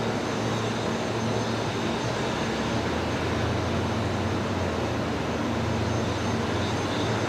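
A Jetstar airliner arriving from Avalon touches down on runway 01 right at Brisbane Airport, a steady broad distant roar of engines and rushing air that holds evenly throughout without talk.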